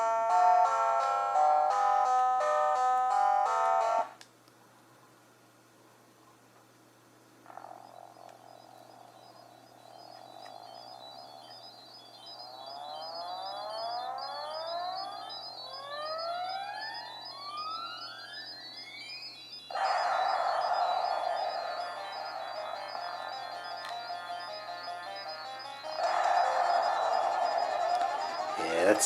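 Chiptune music and sound effects from the Elemental Master video game running through the emulator on a PXP 3 handheld, with bright beeping melodies, a steady buzzing tone and sweeping zaps, loud in bursts and quieter between.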